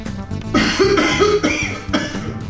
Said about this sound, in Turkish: Şimdi dirsek içi öksürme.